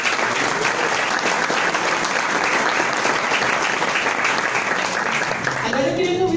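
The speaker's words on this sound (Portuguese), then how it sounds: "Mais uma salva de palmas, por favor." A large audience claps steadily and loudly for several seconds, a dense, sustained round of applause with faint voices mixed in.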